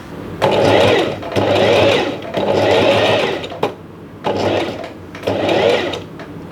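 A sewing machine stitches a linen shirt sleeve in about five loud, close bursts of a steady motor whir, separated by short pauses.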